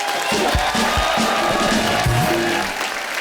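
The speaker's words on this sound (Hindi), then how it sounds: "तालियां जोरदार हो जाए एक बार।" Studio audience at a talk show with Amit Kumar, Leena Chandavarkar and Sumit Kumar, loud sustained applause and cheering with whoops and a few low thumps, continuous throughout.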